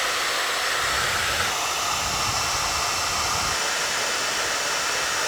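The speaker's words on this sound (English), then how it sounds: "want me to get the blow dryer" A blow dryer runs continuously at close range, a steady loud rushing whoosh with no break, used on a face during a skincare routine.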